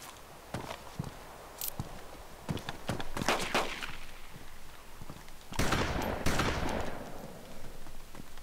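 Rapid bursts of video game gunfire crackle in quick clusters over a busy background of movement and footsteps, with heavier volleys building toward the end.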